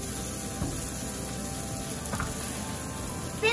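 Jalapeno and vegetables frying in a pan, a steady, moderately loud sizzle with a few soft bumps of movement, all continuous and close.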